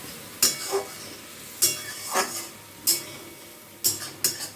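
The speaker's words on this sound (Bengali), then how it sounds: "এই আমি ধনেপাতাটা দিয়ে দিলাম, জাস্ট হালকা হাতে একটু নাড়িয়ে দেবো" Fresh coriander leaves are gently stirred into a cooking dish, leaving a few spaced, soft scraping strokes of a spoon against the pot over a quiet background, with a brief clink now and then and no voices.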